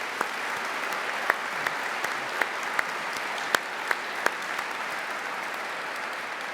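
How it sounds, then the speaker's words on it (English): Audience at an Air Force Space Command headquarters change of command ceremony giving a steady round of applause, a moderate even wash of clapping punctuated by a few louder individual claps. "How about a round of applause for all the people who did that?"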